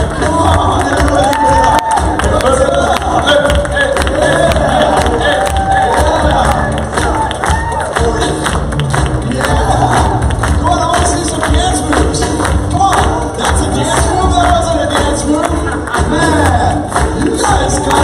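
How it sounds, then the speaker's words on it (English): A conference audience erupts in loud, sustained cheering and whoops for a speaker being welcomed onto the stage, a dense crowd roar with some shouting that holds steady throughout without letting up. "Let's give him a standing round of applause, everybody."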